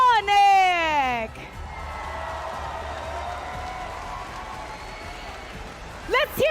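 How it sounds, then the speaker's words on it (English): Cheering and applause from an esports crowd at Rizal Memorial Coliseum for Onic after a knockout-stage match, a sustained roar of clapping and whoops between loud amplified voices at the start and end. "let's give a big round of applause for"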